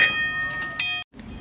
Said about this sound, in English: Ever wonder what an old railroad crossing looked like before gates were invented? It was just a light and some bells.